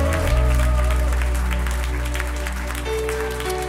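A church congregation applauds and cheers during a worship service, with steady clapping over sustained organ or keyboard tones.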